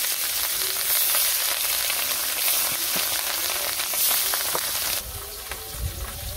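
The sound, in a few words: fish frying in oil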